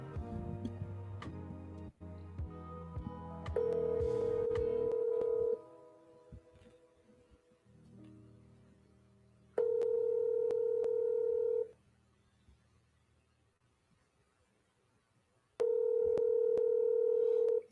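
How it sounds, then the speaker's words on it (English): A phone call goes unanswered: repeated long ringback tones, each about two seconds, separated by pauses, with quieter tones and ticking at the start. "Somebody not gonna pick up the phone."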